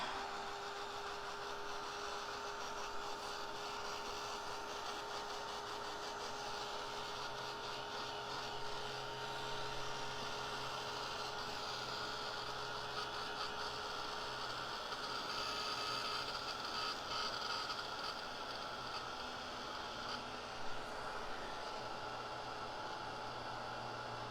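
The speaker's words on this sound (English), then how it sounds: "Let me hit this with my dryer for a little." A dryer blows steadily on wet navy craft paint, a constant faint whirring hiss with a light mechanical hum that holds evenly throughout, with no talking.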